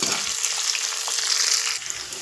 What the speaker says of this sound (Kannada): ಈರುಳ್ಳಿನ ಒಂದು ಎರಡರಿಂದ ಮೂರು ನಿಮಿಷದವರೆಗೂ ನೋಡಿ ಈ ಥರ ಫ್ರೈ ಮಾಡ್ಕೊಳ್ಳಿ